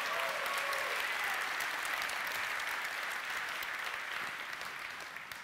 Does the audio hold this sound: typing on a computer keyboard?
no